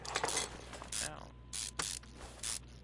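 In the Car Mechanic 2021 game, a throttle is bolted onto a V6 engine. Several quick mechanical ratcheting bursts come one after another, separated by short pauses.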